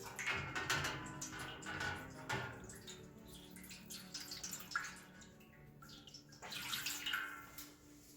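Hot water splashes and trickles into an oven tray beside marinated chicken drumsticks, a quiet, uneven pouring with small drips and clatters, no voices.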